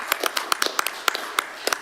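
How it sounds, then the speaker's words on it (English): A handful of people at a council meeting clap sparsely for a speaker, about ten separate, fairly close slaps spaced unevenly in a short, thin burst. "I thought we might have given you a bit of a clap"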